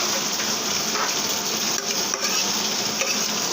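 A steady loud sizzle of potatoes frying in a pan alongside greens, with utensil stirring scrapes mixed into the continuous hiss, close up and without speech.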